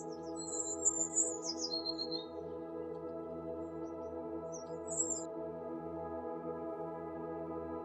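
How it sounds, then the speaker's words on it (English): Birds chirp near medieval church ruins, faint high tweets scattered over the first few seconds and again briefly later, above a steady low droning hum. "Time seems slow here with only the birdsong breaking the silence."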